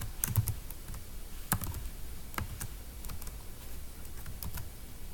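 Quiet, irregular tapping on a computer keyboard while entering a MySQL command, scattered clicks with short pauses between them, close by with no talking.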